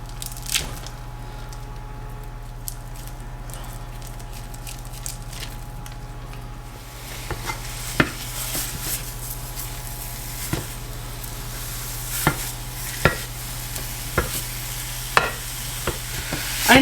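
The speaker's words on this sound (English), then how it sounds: "as long as you're stirring it and messing with it, it's not going to stick too bad" Sausage browning without oil in a frying pan, a steady broadband sizzle with a low hum underneath and intermittent scraping clicks of a utensil stirring, getting busier in the second half.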